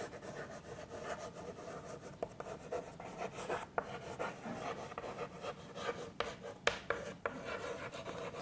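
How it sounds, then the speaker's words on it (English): Chalk or marker writing on a classroom board, a steady soft rubbing and scratching with brief taps as strokes begin and end, close by and alone without talk. "So now I am going to write the situation on the board"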